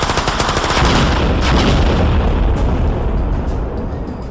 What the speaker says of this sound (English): Nate pulled the trigger. Bullets slammed into the pteranodon and the ground around it. One bullet struck a grenade. The explosion ignited the second one.